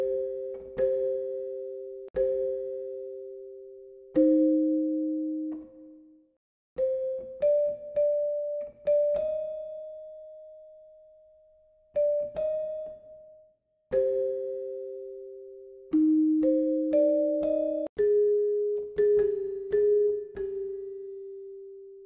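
Bell-like notes from a Bell Tone keyboard preset in FL Studio are played one at a time and in small chords, each chiming tone ringing out and decaying, with brief pauses between phrases.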